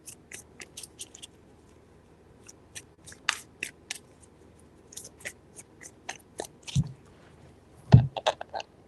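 Tarot cards being shuffled three times in a quiet room, giving soft, scattered riffling and flicking ticks with two slightly louder slaps near the end, no talking.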